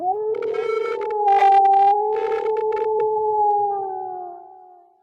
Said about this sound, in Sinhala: බල්ලෝ වත්තමයි මේ බුරණ සද්දේ නිතර ඇහුණා.